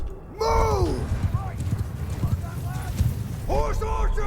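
Cavalry in Mount & Blade 2: Bannerlord thunders by in a dense rumble of galloping hooves, with neighing horses and battle shouts layered over the continuous loud clatter.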